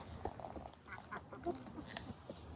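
Chickens cluck softly beside a garden fence outdoors, a few faint, irregular clucks and murmurs heard from close by at low volume.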